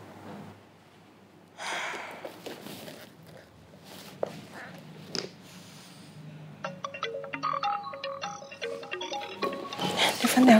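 A mobile phone rings with a repeating electronic melody that starts partway through, after quiet movements, breaths and rustling, and grows louder toward the end.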